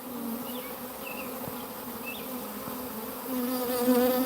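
Honeybee swarm buzzing at a hive, a dense, close, continuous drone of many wings with occasional individual bees whining past, growing slightly louder toward the end.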